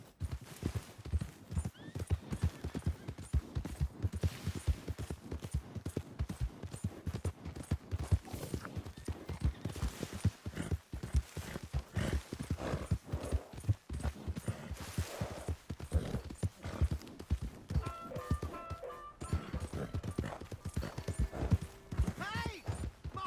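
Steady rhythmic hoofbeats of a galloping horse in Red Dead Redemption 2 continue throughout, with an occasional whinny and brief voices, in a game-like mix.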